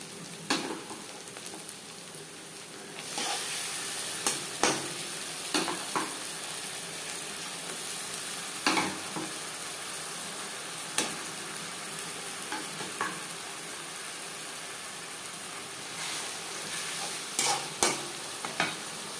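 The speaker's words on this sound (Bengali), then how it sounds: "ভাজা পেঁয়াজের সাথে মাংস বেশ ভালো করে মিক্সড করে দেব।" Marinated chicken stirred into fried onions and garlic in a pan for aloo chicken kosha gives a steady close sizzle, with repeated scraping stirs rising above it.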